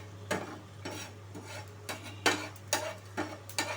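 Whole spices dry-roasted in a dry pan for achari mango masala, stirred in short scraping bursts with a steady hum underneath, close and moderately loud.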